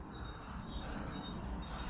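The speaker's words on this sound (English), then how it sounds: "and very noisy because of the birds." Birds chirp steadily at an air raid shelter with brickwork and a dog-leg blast wall, thin high calls repeating throughout against a constant ambient wash.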